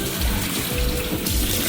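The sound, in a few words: running water while washing face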